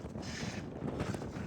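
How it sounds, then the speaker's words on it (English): Wind buffets the microphone on a chilly mountain summit in the Presidential Range of the White Mountains along the Appalachian Trail, a steady low rushing roar with gusty swells. "It is windy and chilly."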